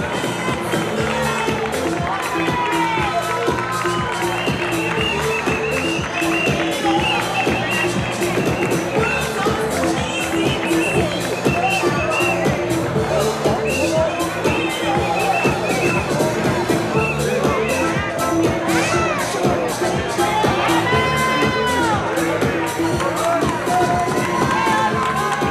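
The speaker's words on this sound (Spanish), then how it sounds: "ese fuerte aplauso para el Club Deportivo de Utrera desde Sevilla" Dense crowd applause and cheering at a youth sports trophy ceremony in Isla Cristina, steady and loud throughout with rhythmic clapping and a lively babble of voices underneath.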